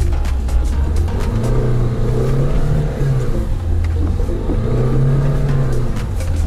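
A Lada 4x4 fitted with AVT differential lockers ploughs through deep snow, its engine droning loudly and steadily with rising and falling revs as it labours on.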